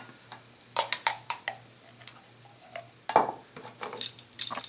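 A teaspoon clinks and scrapes against a jar of Dijon mustard in a kitchen, with a handful of short metallic taps and clicks, then a busier cluster of scoops and knocks near the end, fairly close and with no talking.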